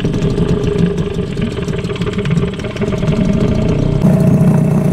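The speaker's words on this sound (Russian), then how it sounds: "мотор поднял и иду как на водомете" An outboard boat motor, raised while moving through grass in reeds, runs steadily nearby with a rough, buzzing drone that rises slightly in the last second, no voices.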